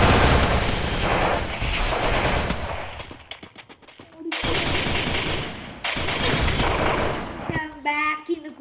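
Rapid bursts of MP40 submachine gun fire in a video game, loud and close, in several sustained strings broken by short pauses, with brief game effects near the end.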